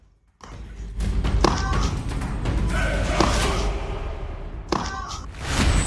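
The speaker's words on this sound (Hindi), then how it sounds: "मस्जिद की दीवार पर दनादन हथौड़ा चल रहा है।" Hammer blows strike a mosque boundary wall in Uttar Pradesh during demolition work: repeated dull thuds and sharper knocks, irregularly spaced over a rough background rumble.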